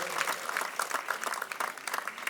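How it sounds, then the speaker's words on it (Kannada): An audience at a Janapada Sambhrama folk festival event claps for Shivakumar in a lively burst of close, dense applause, without talk over it. "ದಯಮಾಡಿ ತಾವೆಲ್ಲ ಜೋರಾಗಿ ಚಪ್ಪಾಳೆಯನ್ನು ಶಿವಕುಮಾರ್ ಅವರಿಗೆ"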